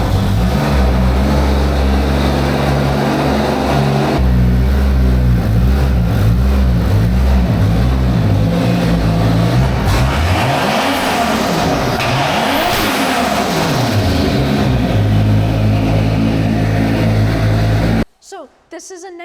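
A turbocharged 1988 Pontiac Fiero fitted with a Honda K-Series engine accelerates hard, loud rising and falling engine revs sweeping through gear changes from the cabin, with a voice speaking over it before a sudden cut near the end.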